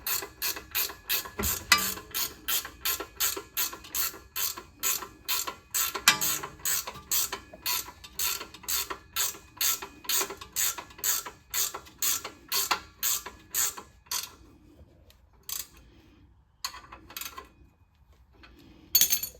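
Rapid ratchet clicking from a socket wrench tightening the lower rear shock mount bolts on a 5th-gen Toyota 4Runner, a steady close run of sharp clicks that stops near the end, leaving a few scattered clicks.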